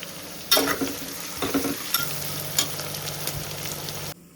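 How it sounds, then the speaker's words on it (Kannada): Onions fry with salt in a pan for avarekai khichdi. A steady, loud sizzle runs throughout while a utensil stirs and scrapes the pan in several close strokes, then the sound cuts off abruptly, with no talking. "ಆನಿಯನ್ ಸ್ವಲ್ಪ ಬೇಗ ರೆಡ್ ಆಗ್ಬೇಕಂದ್ರೆ ಒಂದ್ ಸ್ವಲ್ಪ ಉಪ್ಪು ಹಾಕಿದ್ರೆ ಇದಾಗುತ್ತೆ"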